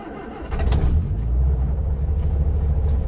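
An old Land Rover Series 2A engine, unstarted for over a week, cranks briefly and catches, then settles into a loud, steady rumbling idle close by.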